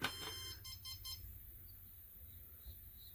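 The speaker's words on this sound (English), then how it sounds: "those beeps indicated that it was syncing up and that it's working properly" A short series of quick electronic beeps from a Sega Genesis console syncing sounds at the start, followed by a faint high tone over quiet background hum.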